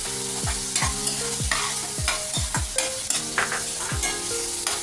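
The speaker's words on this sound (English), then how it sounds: "We'll saute the onions till they become golden brown in color" Chopped onions sautéing in a pan over a medium flame for chhole masala, a steady close sizzle broken by repeated scraping stirs of a spoon against the pan.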